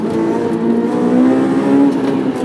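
2006 Honda S2000 AP2 accelerating hard on a race track, a loud rising engine wail with steady high-revving tone, heard from inside the car without talk.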